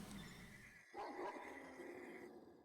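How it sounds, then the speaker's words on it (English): Dogs barking close by in a goblin-themed fantasy video game, a single burst of barks rising over a steady ambient game soundscape with no talking. "You can still hear the horses and there's dogs like close by"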